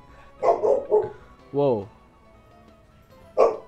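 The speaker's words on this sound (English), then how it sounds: "Is that your dog?" A dog barks several times close by, with a quick run of yips followed by a longer whining bark and another sharp bark after a pause, while people speak nearby.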